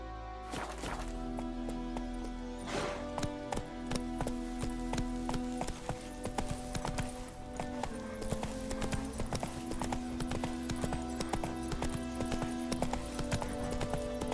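A horse gallops at a steady clip-clop in The Witcher 3, hoofbeats continuous and close over a bed of game music, with no talking.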